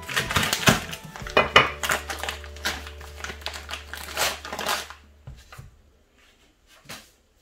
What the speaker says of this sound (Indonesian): Jadi ini nanti Mak mau iris tipis-tipis ya.